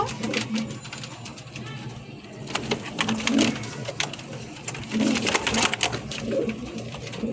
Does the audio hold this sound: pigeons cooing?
yes